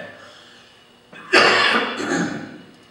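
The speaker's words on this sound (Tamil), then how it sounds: "இது வழக்கமாக வருகிற இருமல்." A sudden harsh cough bursts out after a quiet moment, followed by a second rougher cough trailing off, close to the listener.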